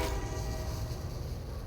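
A train in the factory-building video game Satisfactory rumbles along steadily with a low, continuous rolling drone and a faint horn-like tone at the start, with no one talking.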